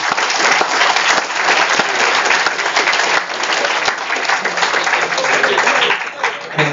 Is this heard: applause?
yes